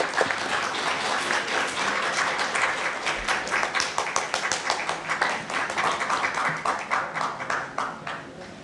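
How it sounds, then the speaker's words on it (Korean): Sustained audience applause in a hall for Jeju Governor Won Hee-ryong arriving to give the keynote at a peace city network session of the 2019 Jeju Forum, dense clapping steady throughout with slight thinning near the end. "큰 박수 부탁드립니다."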